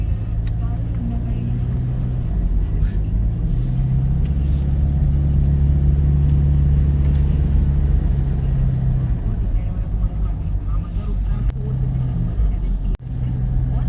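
A car drives along mountain roads in the Sahyadri range between Pune and Kolhapur, its engine a steady low rumble that swells and eases as it moves along.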